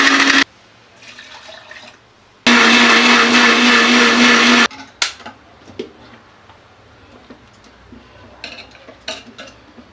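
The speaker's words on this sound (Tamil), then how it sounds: "தேங்காய் இப்படி நல்லா நைஸாக ஆட்டிக்கலாங்க" A kitchen mixer grinder whirs loudly in two bursts, grinding coconut and fennel seeds into a masala paste, with a pause between runs and clinks of utensils and lid handling afterward.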